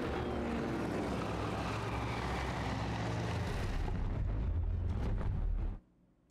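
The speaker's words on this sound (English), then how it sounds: "Saw a plane." A heavy, roaring airplane rumble from a film soundtrack fills the space, broad and loud throughout, then drops off abruptly to near silence.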